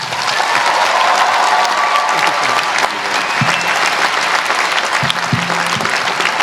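Dense, sustained audience applause welcomes Denzel Washington to the stage, a steady wash of clapping hands that fills the whole stretch at high level with no speech on top.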